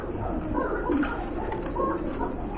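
Pet pigeons offered for sale coo nearby, soft low repeated throaty calls over a constant background hum.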